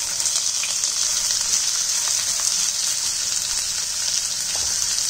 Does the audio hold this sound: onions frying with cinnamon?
yes